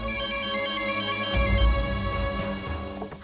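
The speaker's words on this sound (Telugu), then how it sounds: "హనుమంతు ఆ ఫోన్ చూడు." A loud electronic ringtone plays a repeating melody, then cuts off partway as muffled rustling follows.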